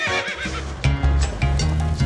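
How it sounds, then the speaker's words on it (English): A horse neighs in a children's farm-animal nursery rhyme, a loud, close whinny over rhythmic clip-clopping, with a strong music bed throughout. "The horse on the bus goes neigh, neigh, neigh"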